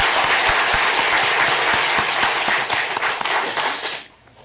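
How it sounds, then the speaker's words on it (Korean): A church congregation applauds the choir after a hymn, a dense burst of clapping from many hands that carries on for about four seconds and then stops abruptly. "우리 성가대 격려의 박수 한번 하시면 좋겠습니다."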